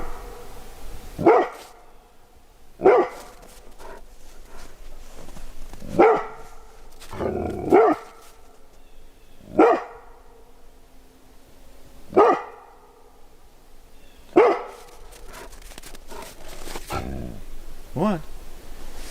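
A dog barks out in the woods in sharp single woofs spaced every couple of seconds, fairly close and loud, with quiet forest ambience between them.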